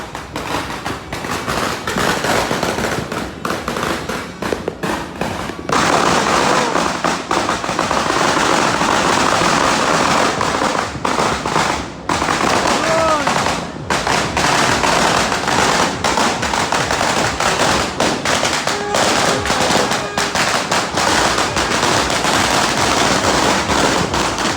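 Fireworks and firecrackers explode at a New Year's Eve celebration in Mapandan, Pangasinan, with dense, loud crackling bursts and rapid popping volleys running continuously and overlapping throughout, with no talk.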